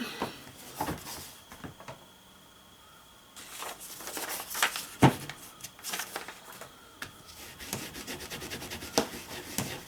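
A rubber stamp is rubbed back and forth on a Stampin' Scrub pad to clean off ink, making soft, close, scratchy scrubbing strokes in irregular bursts.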